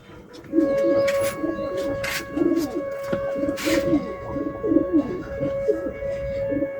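Pigeons coo close by in soft, repeated throaty bursts, with a steady hum and a few sharp clacks in the background.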